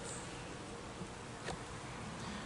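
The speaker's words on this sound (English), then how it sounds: "There's quite a few bees on this frame." Honey bees buzz during a spring beehive inspection as a frame is lifted out with no smoke, a steady, dense hum that stays close and fairly quiet throughout.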